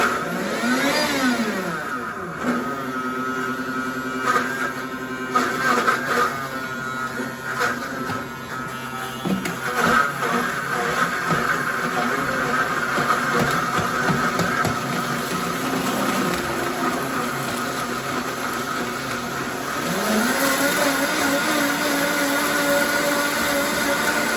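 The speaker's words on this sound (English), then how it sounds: "So I can use the blender for smooth blending. Then I do high speed." A blender whirs at high speed while blending a raw vegan smoothie, a loud steady motor drone that shifts pitch as it ramps up and settles, running alone without talk.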